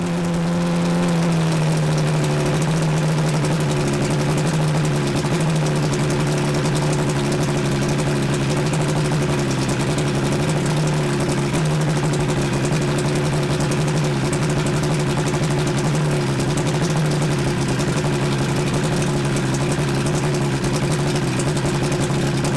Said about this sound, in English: I have the lever on the remote control pulled up, which is used when you're starting the motor